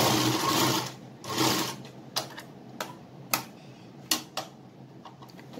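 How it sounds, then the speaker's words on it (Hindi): A sewing machine stitches a cotton strip for a small frock, two longer whirring runs followed by sharp separate clicks and short bursts, close and moderately loud with no talk. "और इसको पूरी को स्टिच कर देंगे"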